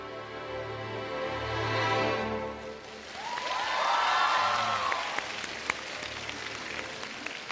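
A studio audience at a televised singing show applauds after a song, a broad wash of clapping that swells twice, while a fading musical tone lingers underneath.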